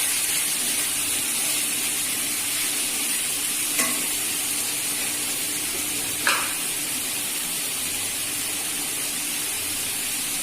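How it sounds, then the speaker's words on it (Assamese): Chicken frying with ginger, salt, green chili and spices, a loud and steady sizzle and hiss from the pan, broken by two brief clinks of stirring. "আমি এতিয়া মাংসখিনি ভালদৰে ভাজি ল'ম আদা নিমখ জলকীয়া সকলোবোৰ মছলা দি"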